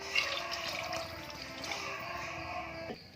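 Two glasses of water are poured into rice and spinach for palak pulao, a continuous close splashing pour that stops abruptly near the end.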